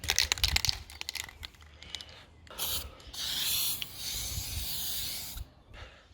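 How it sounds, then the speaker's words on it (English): Primer is sprayed from a can onto a car door during rust repair on an AE86 drift project, steady hissing bursts up close broken by clicks and handling noise. "We're just going to spray with the primer."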